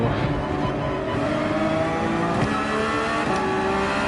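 Race car engines at the Red Bull Ring in GT7 drone loudly and steadily, with pitch rising and shifting as cars accelerate together in close traffic, with no talking.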